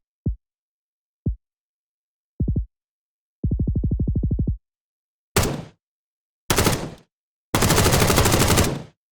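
Punchy synthetic gunshot effects: low thumps, a rapid burst, then louder sharp cracks and a sustained full-spectrum blast, each separated by silence.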